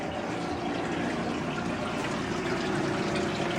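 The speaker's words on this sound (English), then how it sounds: "Look at how much water is coming in from our foundation." Water gushes steadily from a small foundation pipe into a basement, a loud, continuous splashing pour close by with no voices.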